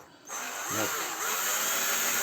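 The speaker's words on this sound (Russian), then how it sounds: "воспользуемся шуруповертом, сверлим отверстие" A cordless screwdriver whirs as it bores a hole into an old eraser, a steady motor whine starting abruptly and holding close and continuous.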